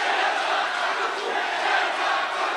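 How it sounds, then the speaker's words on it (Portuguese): A large crowd at a political event shouts a chant together, a dense, loud, continuous roar that stays steady throughout. "É o que a plateia tá gritando"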